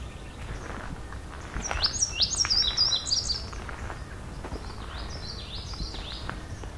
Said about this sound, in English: common Yellowthroat